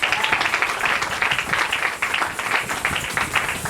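A church congregation at a worship service claps loudly and continuously, a dense, close wash of many hands with a few faint voices mixed in.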